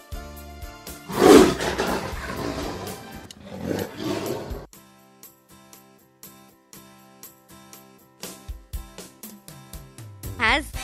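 A tiger roars loudly in two rough, throaty bursts near the start, followed by quieter growling and then soft background music with light percussive taps.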